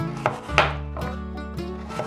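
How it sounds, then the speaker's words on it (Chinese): A knife chops taro into strips on a board, giving several distinct, close, sharp knocks at irregular intervals with short ringing decays between them. "把芋头切条"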